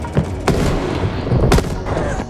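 Gunfire in a Call of Duty: Black Ops Cold War multiplayer Domination match on Garrison, a few sharp close shots and bursts over a busy rumbling battle background.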